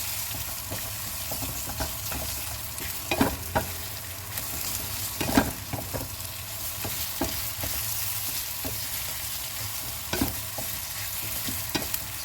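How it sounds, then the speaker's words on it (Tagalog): A tortilla for homemade shawarma heats in a hot pan, giving a steady, moderate sizzle with occasional soft scrapes and clicks throughout. "sa isang pan, pinapainit ko na rin ang ating tortilla"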